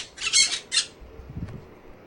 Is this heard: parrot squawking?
yes